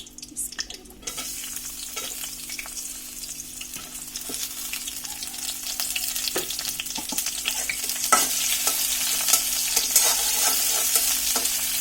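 Chopped onions frying in a pan, a close, steady sizzle that grows louder over several seconds, with occasional scraping stirs.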